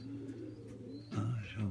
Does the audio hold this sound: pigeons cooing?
yes